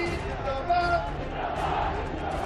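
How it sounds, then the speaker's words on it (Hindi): Crowd at a Narendra Modi election rally in Nagaur, Rajasthan, chanting his name, a dense, steady roar of many voices with a brief louder swell near the middle. "पीएम मोदी जब भी मंच पर होते हैं, भीड़ ऐसे ही उनके नाम के नारे लगाती है"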